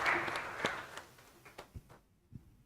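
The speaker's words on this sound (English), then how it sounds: "A round of applause to you first." Audience applause at an international research conference on insolvency and bankruptcy, a burst of clapping that is loudest at the start and thins to scattered claps as it fades.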